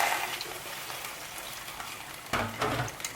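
Thickening maize pap is stirred vigorously in a pot, a soft continuous scraping, bubbling swish that grows a little louder and rougher near the end, heard up close with no voices.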